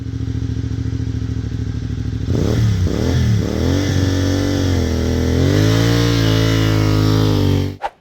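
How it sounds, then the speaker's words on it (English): Motorcycle idling steadily, then pulling away with a slipping, over-dragged clutch, the engine revving up and wavering in pitch before settling into a sustained strained drone, loud and close, then cutting off abruptly. "Over-dragging your clutch during a takeoff."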